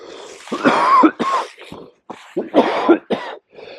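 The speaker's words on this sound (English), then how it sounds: "Made me cough." A person coughs repeatedly in rough, hacking bursts with brief pauses between, close and fairly loud, ending in a throat clear.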